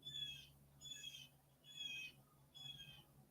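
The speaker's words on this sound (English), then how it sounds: "I've got a screaming blue jay that just flew by." A blue jay screams harshly as it flies past outdoors, giving four short raspy calls in a steady rhythm over a faint background hum, with no talk.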